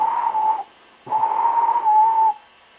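Gordon, a steam engine, gives two long whistle blasts, a short one then a longer sustained one, clear and fairly loud with a quiet pause between and no talking.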